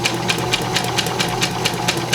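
A sewing machine stitches pieces of a Rapunzel costume together, running steadily and loudly up close with a fast, even mechanical chatter and hum throughout.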